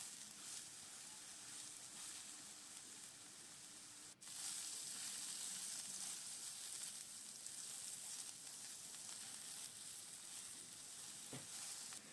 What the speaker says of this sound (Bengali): একটু গ্যাসটা সিমে করে নিয়ে একটু নুন ছিটিয়ে দিয়ে ভাজবো